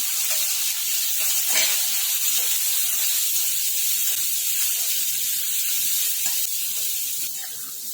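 Spice masala for samosa filling sizzles in hot oil, a loud steady hiss running unbroken for several seconds and fading slightly at the end, with no talking.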